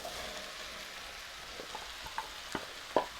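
Potatoes and meat for a frittata fry in a pan with a steady close sizzle, punctuated by several sharp scraping and clinking stirs toward the end.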